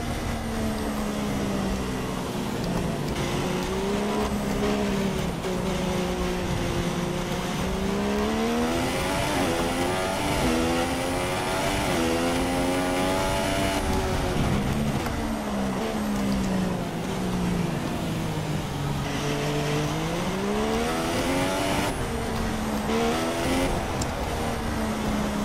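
Formula 1 race cars roar through a Bahrain race in the F1 2016 video game, engine pitch climbing and dropping in repeated sweeps as the car weaves and shifts, loud and continuous with no talking.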